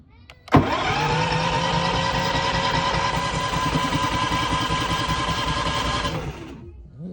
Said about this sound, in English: Let's see how the Westinghouse fires up on us.